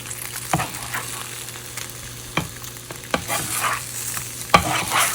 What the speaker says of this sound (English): the cheese is starting to brown on here, so I'm going to stir this up